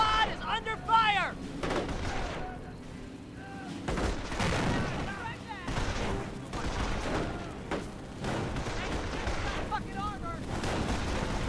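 Gunfire and artillery blasts from the World War II strategy game Company of Heroes, with airborne squads in combat, as repeated loud shots and booms roll through the battle alongside shouted game voice lines.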